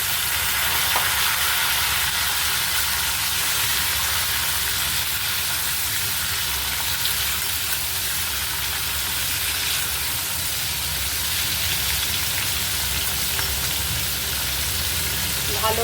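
Potato and pumpkin pieces frying together in a pan for Bengali kumror chakka, a continuous dense sizzle, loud and close, holding evenly throughout with no break and no one talking.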